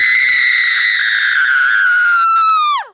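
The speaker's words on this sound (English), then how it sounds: "released a blood-curdling scream" A woman's long blood-curdling scream, loud and close, held shrill and steady for nearly three seconds before breaking off with a sharp falling pitch.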